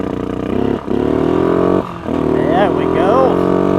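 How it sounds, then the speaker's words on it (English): A small ATV engine, carb barely worked on, idles steadily close by, a continuous low rumble with brief dips in level, under no speech but with faint higher chirping tones near the end. "I can't believe this thing's idling"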